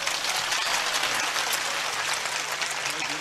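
Crowd applause at a devotional gathering, a dense, steady clapping that holds at even loudness from start to finish with no talking over it.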